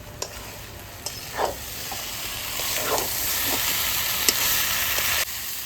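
Meat being sautéed with ground spices in a pan gives off a low, steady sizzle, with scattered scraping strokes of stirring and occasional sharp clicks.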